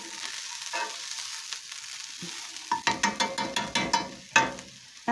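Food frying in a pan over lowered heat, quiet sizzling followed by a quick run of sharp scraping spatula strokes, close and distinct, with no talking.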